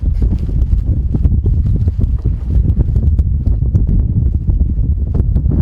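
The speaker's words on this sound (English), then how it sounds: "This canyon is so full of wind." Strong wind gusts through a canyon on a paddling trip, a loud, continuous low roar and buffeting on the microphone with no pause and no voices.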